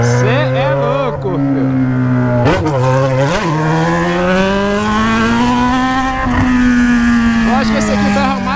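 Yamaha XJ6 motorcycle with a 3-inch exhaust revving loud and close, its engine note climbing and falling through several sustained rev swells with brief dips, no talk over it.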